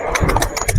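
Hooves of a Marwari horse under a rider, a quick run of close clip-clop beats over a short stretch, with a voice faintly present in the background.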